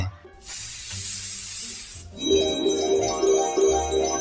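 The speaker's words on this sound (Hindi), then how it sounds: "मार स्प्रे इसके मुंह पे।" A loud, steady hiss of magic spray in a cartoon scene, followed by twinkling, bell-like shimmering chimes with a low rumble underneath. There is no talking.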